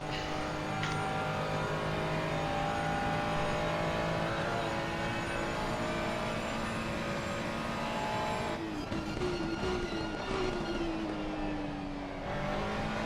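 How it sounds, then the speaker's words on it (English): Race car engine in a Nordschleife racing game, rising and falling through throttle and downshifts with whining gear changes, steady and loud throughout with no talk. "The downshifts are good, but the sound on the throttle is not as great."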